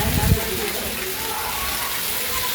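Rain keeps falling harder with bigger drops, a close, broad, steady wash of water noise with a brief low thump near the start and no clear voices.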